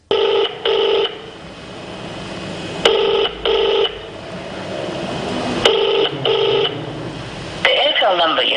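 An unanswered telephone call rings out in a steady pattern of paired rings repeating about every three seconds, loud and close as heard through the handset, ending with a recorded voice beginning to speak.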